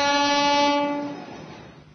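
A train horn sounds one long, loud, tonal blast that fades after about a second into a low rumble of the train running.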